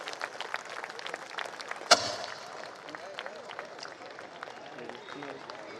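An audience at a steel plant's Formation Day award ceremony breaks into steady applause, many hands clapping at a moderate distance with one sharp bang partway through.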